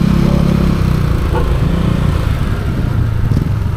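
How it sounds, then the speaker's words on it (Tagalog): A scooter-style motorcycle idling and being maneuvered into a parking spot near a boat landing at night, its engine a loud, steady low rumble running the whole time with slight shifts in throttle. "Paparada lang namin tong motor."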